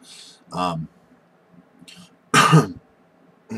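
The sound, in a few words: cough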